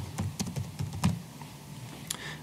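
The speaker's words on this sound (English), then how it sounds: "typically, I'd expect that the agent would then start typing notes" Notes being typed on a computer keyboard, a close series of uneven key clicks and taps in short bursts with brief pauses, fairly quiet and without talk.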